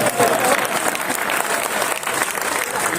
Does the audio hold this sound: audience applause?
yes